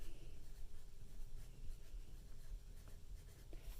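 A pencil scratches across a paper worksheet writing a name, a close, continuous scribbling scrape with short strokes and brief pauses.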